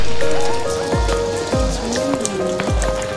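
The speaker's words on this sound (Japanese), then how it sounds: "だってみんな来るときは基本晴れだったのに、私は雨。" Rain falling steadily, heard as broadband patter with a few louder drops and thumps, a little music or tones running faintly underneath.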